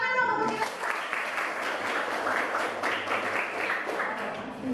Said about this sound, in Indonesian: Tepuk tangan dong untuk kita.